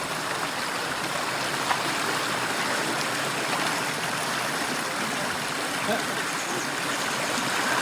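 Kawa Falls pours in a steady, broadband rush of falling water, heard close and continuous with no pauses.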